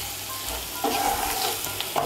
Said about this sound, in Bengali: মিশিয়ে নিয়ে মশলাটাকে একটু ভালো করে কষিয়ে নেব